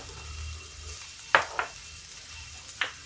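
Onion, fennel seeds, cumin and asafoetida dropped into a frying pan, a soft background sizzle broken by three sharp, close clinks and scrapes spread over a few seconds, with no one talking.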